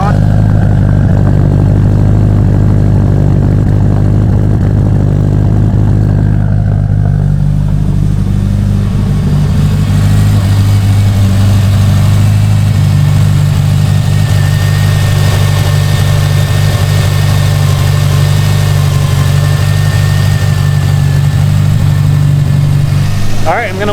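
Subaru STI with a roughly 500 whp build and a first tune revision idles steadily after startup, a loud, even low rumble that holds for the whole stretch with a slight settling partway through.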